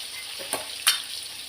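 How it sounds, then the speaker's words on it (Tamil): Onions, green chillies and curry leaves sizzle steadily in a pan while a spoon scrapes and stirs, with two quick clinking strokes over the frying hiss. "நல்லா வதக்கிக்கிறேன்."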